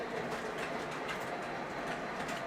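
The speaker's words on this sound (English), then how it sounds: "We're gonna pull a freight train with E8s and War Bonnet." A freight train hauled by E8 locomotives in Warbonnet livery rolls past with a steady rumbling roar and faint rhythmic wheel clatter, moderately distant and continuous, with a bird calling faintly in the background.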